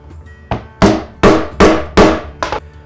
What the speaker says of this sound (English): Now with that second hole punched out